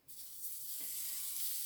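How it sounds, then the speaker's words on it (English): Sausage sizzles in a warm pan for a stew, a soft steady hiss that starts abruptly and holds throughout at low volume, with no talk. "So you can hear a little bit of sizzle because I already had a warm pan"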